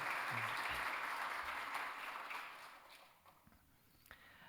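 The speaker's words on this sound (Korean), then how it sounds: "우리 큰 박수로 미리 축하하겠습니다" A church congregation at a Sunday worship service applauds in a broad wash of clapping that holds steady, then fades away into near quiet.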